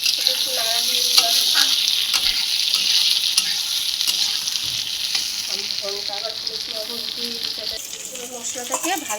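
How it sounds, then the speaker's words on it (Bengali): Eggplant slices fry loudly in hot oil in a home kitchen pan, with a steady bright sizzle and occasional scraping stir strokes. "এদিকে বেগুন ভাজাটা বসিয়েছি,"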